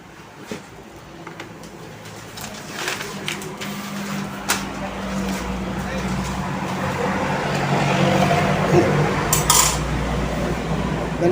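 Adana kebab being prepared at a restaurant in Adana: metal and dish clatter with sharp clinks and knocks over a busy, rising background of kitchen noise.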